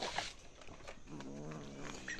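A cat meows near other cats at feeding time on a rural homestead, with a short, close, moderately loud call that has a tonal, wavering quality over general background noise.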